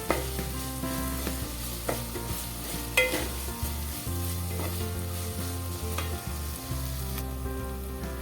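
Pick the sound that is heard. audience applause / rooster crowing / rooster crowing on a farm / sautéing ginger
sautéing ginger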